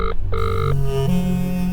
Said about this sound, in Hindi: ये फोन क्यों नहीं उठा रहे हैं?